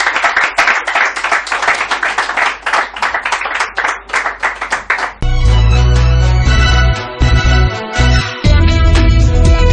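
A studio audience claps and applauds in a dense, lively burst to welcome the presenter onto the set, and the applause cuts off as loud music takes over.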